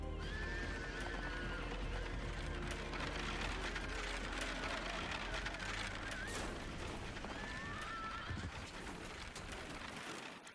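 A horse whinnies in the video game Parasite Eve, two or three shrill neighs rising over a busy background of rattling effects and hoof clatter.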